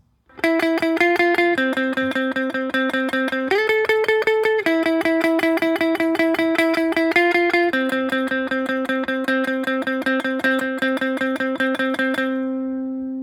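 Electric guitar plays a riff, a steady stream of evenly picked sustained notes shifting through a few pitches, clean and up close, with no talking.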